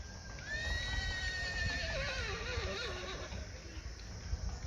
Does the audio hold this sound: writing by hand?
no